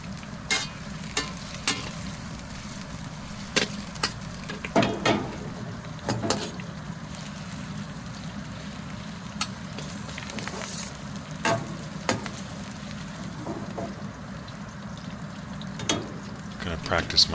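Stir-frying in a steel Oxenforge wok over a Phoenix Cooker 25-jet burner: a steady sizzling roar with sharp metallic scrapes and clanks of the tool against the wok repeating throughout, close and fairly loud.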